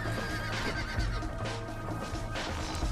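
A horse whinnies in the Undead Nightmare video game over a busy background of rumbling and hoofbeat-like thuds.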